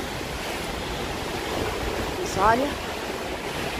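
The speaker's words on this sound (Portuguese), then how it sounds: "Só o vento mesmo" Strong hurricane wind during Hurricane Ian roars as a steady broadband rush throughout, with a brief voice speaking over it midway.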